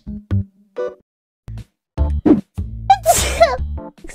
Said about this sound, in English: I'm sneezing so much today